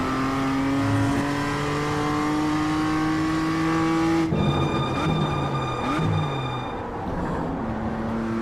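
A BMW M2 engine revving hard in iRacing, loud and sustained, pitch climbing steadily before a sharp gear change, then another rise and some tire noise as it fades slightly.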